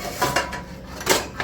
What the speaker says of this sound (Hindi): कलछुल